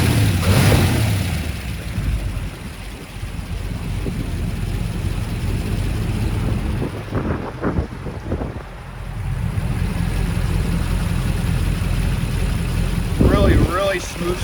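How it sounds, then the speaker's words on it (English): A 1962 Chevrolet Corvette with a 327 cubic-inch, 250 hp V8 and 4-speed idles steadily, a continuous low engine rumble close by with brief revving bursts, under light wind noise. "Really smooth starting engine,"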